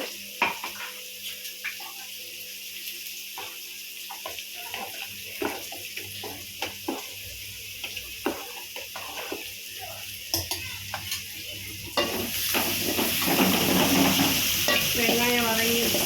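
Masala stirred into squid gravy in a pan on the stove, with repeated scraping and knocking of a spoon under a soft sizzle that swells into louder bubbling frying near the end.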